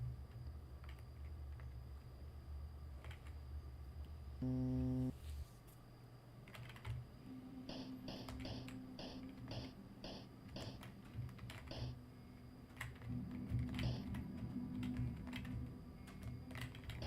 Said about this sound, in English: Sorry for the noisy keyboard computer controls here